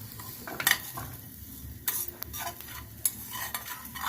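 Ingredients for Andhra mango-ginger pickle dry-roast in a pan to drive off moisture, a low sizzle broken by sharp scrapes and clinks of a spoon stirring against the metal at irregular moments, close and alone.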